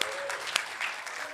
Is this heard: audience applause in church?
yes